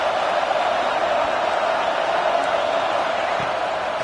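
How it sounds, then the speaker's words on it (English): LSU versus South Carolina football stadium crowd on third down, a loud, continuous roar of tens of thousands of fans holding steady throughout, with a commentator talking over it. "Decibels rising as the crowd gets behind this defense on 3rd down."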